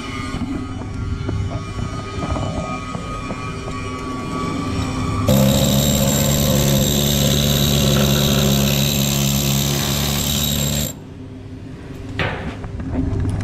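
Welding the capping layer on steel gives a loud steady hiss and crackle that starts abruptly, holds for several seconds, then cuts off, over a background machine hum with no talk.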